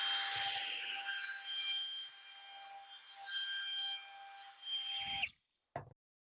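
High-pitched whining squeal from a power tool, likely a router, as a tiny 1/8-inch chamfer is cut along the bottom edge of a wooden sacrificial miter gauge fence, sustained and loud, then abruptly cutting off, followed by a couple of soft knocks.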